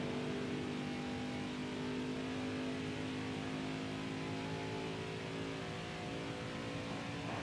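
Truck engines in the NASCAR Heat 5 video game drone and rev continuously at high pitch, like several race vehicles running together, loud and steady throughout without speech.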